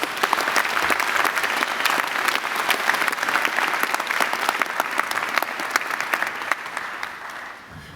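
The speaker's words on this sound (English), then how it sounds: "a big round of applause for our graduates" A large audience applauds graduates at a university graduation ceremony, with sustained, dense clapping throughout that tapers slightly at the end.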